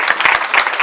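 College audience clapping to welcome new students, a short burst of fairly loud, close applause with a few distinct claps in quick succession.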